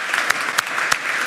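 A church congregation claps in a brief, even burst of applause with regular sharp hand claps.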